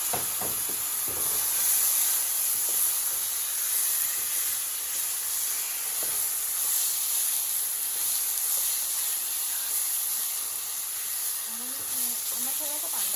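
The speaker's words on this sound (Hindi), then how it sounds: "अब मैं दाल का तड़का बना रही हूँ। मैंने इसमें टमाटर डाल दिए।" A continuous bright hiss of a lentil tempering with tomatoes sizzling in a pan runs steadily throughout, with faint clinks and brief background noises.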